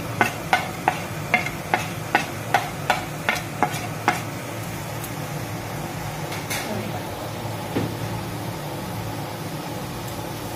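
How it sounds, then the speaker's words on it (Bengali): Cabbage frying with turmeric and chili powder, a rapid run of rhythmic spoon scrapes against the pan, then sparser strokes over a continuous sizzling hiss, close up. "এবার একসঙ্গে সুন্দর করে ভেজে নিতে হবে"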